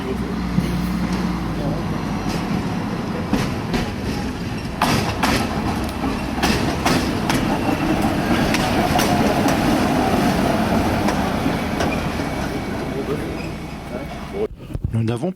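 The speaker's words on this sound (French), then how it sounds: "La locomotive diesel fait un tête-à-queue et va chercher un autre wagon de marchandises" A diesel locomotive hauling freight wagons on a Czech railway near Jindřichův Hradec rumbles steadily, with rolling wheel clatter and intermittent clanks over a continuous low drone, fairly close throughout.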